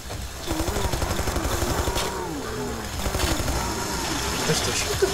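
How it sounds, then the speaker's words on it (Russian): A revving chainsaw in the video game Killing Floor buzzes in a steady, pulsing motor drone throughout, with voices talking over it. "Бензопила?"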